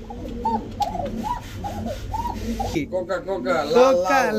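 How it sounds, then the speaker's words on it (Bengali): Saharanpuri pigeons coo repeatedly at close range in a loft, giving soft rhythmic rolling calls. People talk over the cooing. "এইটা কি কবুতর? সাহারানপুরি।"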